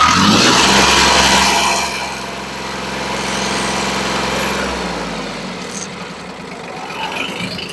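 A Yanmar Ke3 mini tractor's small engine runs steadily nearby, loud and rumbling at first, then settling into a quieter idle.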